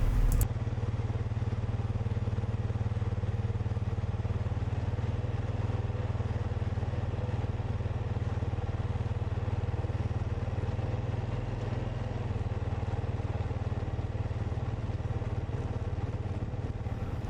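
An ATV engine drones steadily throughout a ride across open farm ground, a low, rumbling, slightly rough hum that holds at a constant level with no speech.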